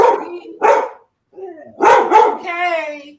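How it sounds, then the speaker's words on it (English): A pet dog indoors barks at people walking down the street: two sharp barks, a short pause, then a louder double bark that trails into a drawn-out whining yelp, all close and loud. "You hear my dog here."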